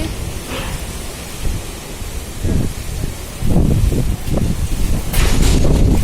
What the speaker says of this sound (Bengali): দেখো কি হাওয়া দিচ্ছে